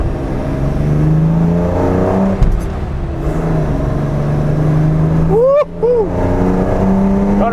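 A classic Nissan Z sports car pulls hard, its engine note climbing through the gears in a loud, close run, with a brief break in the sound and a short voice cutting in near the end.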